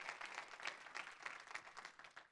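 Congregation clapping in a church service, a brief, faint burst of many hands with loose rhythmic pulses, heard at a distance and without voices.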